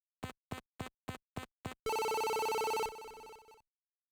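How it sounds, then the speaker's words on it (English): Six short, evenly spaced electronic blips in the survival horror game Cronos: The New Dawn lead into a sustained buzzing tone that drops off, near and clear with no talking. "It's a phone."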